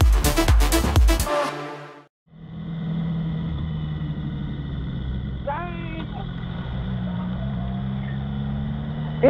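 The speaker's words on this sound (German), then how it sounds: "Und das ist jetzt die Probefahrt, zum Schauen, ob das Ganze jetzt als Gesamtpaket alles miteinander funktioniert." BMW S1000R motorcycle on a test ride, its engine droning steadily and loud with wind rush for most of the clip after a brief break near the start, a rising pitch sweep marking acceleration.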